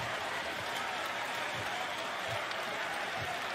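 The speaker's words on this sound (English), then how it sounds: "Even the Knicks are applauding." A basketball arena crowd applauds in a dense, sustained wash of clapping and cheering heard from a distance throughout.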